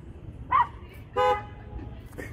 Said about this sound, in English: They just honk at him.